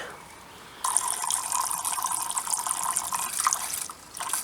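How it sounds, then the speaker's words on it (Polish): Water is poured into a cooking pan, a steady hissing, splashing stream starting abruptly and running for several seconds before briefly easing, heard at close range without speech. "Dodaję wody trochę."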